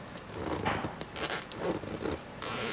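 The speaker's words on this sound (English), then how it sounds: "This is the off-brand zipper." An off-brand zipper on a grow tent is pulled in several short, uneven tugs, scratchy and close, with small catches between strokes.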